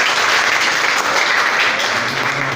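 Audience applause after a presentation on solving a one-unknown equation problem, a loud, dense burst of clapping sustained through the whole short stretch.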